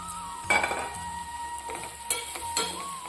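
A metal spoon clinks and scrapes against a pan as fried soya chunks are stirred into a spicy masala, with a few distinct knocks over a soft, steady background hum.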